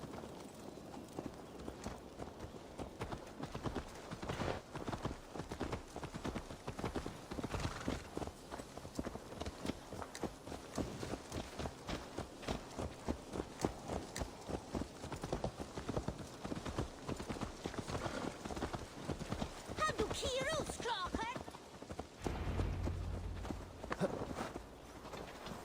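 Horse hooves clip-clop at a steady walking rhythm in Assassin's Creed Valhalla, fairly close and continuous, with a brief shift in the background tone near the end.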